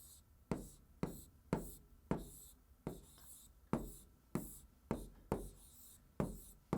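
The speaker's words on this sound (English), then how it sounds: "I'm going to write it onto my board" A marker squeaks and taps across a whiteboard as a word is written, about a dozen sharp, close strokes in a quick irregular rhythm, with no talking.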